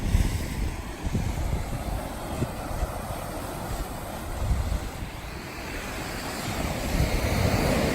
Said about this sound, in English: Enjoy watching the surf come in, especially against these rocks.